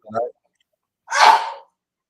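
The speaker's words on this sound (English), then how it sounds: "Sorry, I have a very loud sneeze." A single loud human sneeze bursts out alone, preceded by a brief short intake-like sound, then silence.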